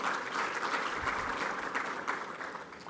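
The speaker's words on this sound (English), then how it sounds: "Please let's give Mr. Jonathan Kamin another round of applause." An audience at a forum launch event gives a sustained round of applause. The clapping is dense and steady for several seconds, moderately loud, with no one speaking over it.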